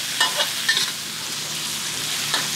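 A holy basil sauce is stir-fried in a pan before being poured over fried beetles, with a steady sizzle broken by a few clinking, scraping strokes near the start.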